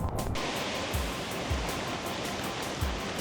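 A waterfall in Iceland roars as a steady, dense broadband rush, loud and continuous with a low rumbling undertone throughout, with no voices.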